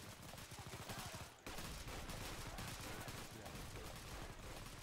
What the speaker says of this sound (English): I got one machine gunner just shooting right through the wood of it